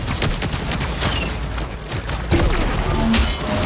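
Peni Parker's spider mines in Marvel Rivals set off a dense run of loud blasts and crackling bursts, with a sharper louder burst late in the clip. No talk is heard.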